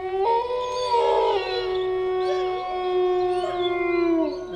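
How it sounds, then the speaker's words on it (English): A ghostly dog howls in a long, wavering, eerie wail that rises and bends in pitch, loud and close, layered with a faint second howl and a low background drone. "It was then that the shepherd heard a horrific bark."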